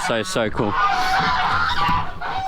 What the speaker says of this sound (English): And you can see here the geese and also the chicken.